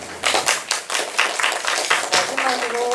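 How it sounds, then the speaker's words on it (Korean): Audience at a Gunsan volunteer forum on COVID-19 clapping for presenters and panelists, a moderate round of hand claps in an indoor hall, with voices faintly murmuring underneath. "지금까지 토론회에 함께해 주신 발제자 토론자 여러분 모두 큰 박수 부탁드립니다"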